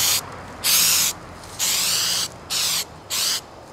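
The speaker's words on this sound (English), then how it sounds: "Again, I'm spraying away from the edge of the masking." Spray paint hisses in about five short, close bursts as it is sprayed away from the edge of masking on a painting, simulating a linen mat, with brief pauses between passes.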